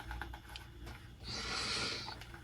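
Close sniffing of a new black Gillio Giramondo Toscana planner: a single soft, breathy inhale lasting about a second, with no other sound.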